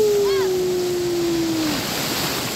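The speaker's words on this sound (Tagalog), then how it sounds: "Oh, laki ng alon." Big ocean waves at Il Mare beach in Agno, Pangasinan make a steady, loud broadband rush of surf throughout, with a thin whistling tone sliding slightly downward through the first part.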